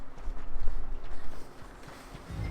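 Horse hooves gallop in Red Dead Redemption 2, a quick rhythmic pounding that is strongest at first and then fades and thins out, with a low rumble underneath.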